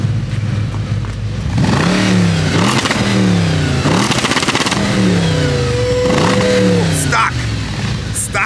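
A stock-exhaust Acura TL Type S with quad tips revving repeatedly in a series of rising and falling blips, loud and close, while people talk and shout over it.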